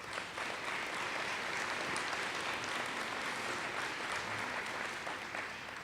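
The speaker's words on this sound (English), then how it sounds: "And can I get a round of applause for Missy, please?" Steady applause from a crowd at a company annual meeting fills the whole stretch, dense clapping at an even level that fades slightly at the end.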